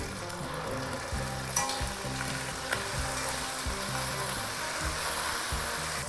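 Ginger garlic paste sizzles with onions in a hot pan while cooking veg pulao, a dense steady frying crackle with soft stirring scrapes and a couple of brief clinks.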